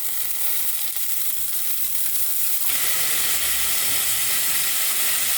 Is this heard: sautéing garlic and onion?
yes